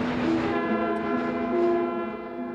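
A train rolls across a combined road and railway bridge linking China and North Korea, its horn sounding as a steady, loud tone above a constant rumble for the whole stretch, with no voices.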